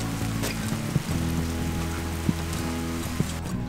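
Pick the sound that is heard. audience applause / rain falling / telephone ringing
rain falling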